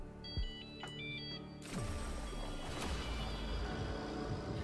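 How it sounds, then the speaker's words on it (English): A phone ringtone in a shooter game sounds as a short electronic melody of stepped beeps, followed by a loud burst of noise and sustained rumbling game audio. "Oh, phone."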